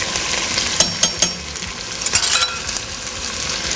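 A spoon scrapes and stirs a sticky pot of bourbon chicken, several short scraping strokes over a bright sizzling, bubbling bed of sound, close and fairly loud with no voices.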